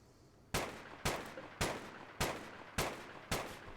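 Colonists hunting in Rimworld fire a gun in a regular series of six sharp, loud shots about half a second apart, each with a short decaying tail, with no talk over them.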